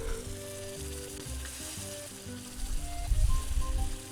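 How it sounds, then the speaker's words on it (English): San Marzano tomato sauce simmers and sizzles in a pan while cooking a fish soup, a steady soft crackle that grows louder and bubblier near the end. "Let a little simmer a little bit."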